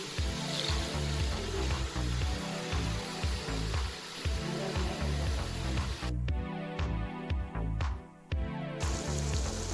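Cauliflower and potato curry with half a cup of water steaming in an unsealed pressure cooker, a continuous close hiss and bubbling with a rhythmic pulsing rattle throughout.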